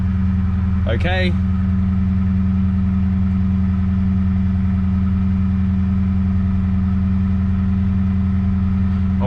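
A manual Holden Commodore SS with a suspected failing alternator idles steadily up close, a constant low engine drone running throughout with a brief spoken word early on.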